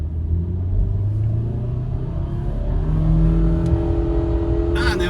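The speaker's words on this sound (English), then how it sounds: "There goes the electric motor." A Subaru Forester eBoxer hybrid pulls away on its electric motor, heard from inside as a steady low rumble and rising whir that builds gently over a few seconds, with faint road noise beneath.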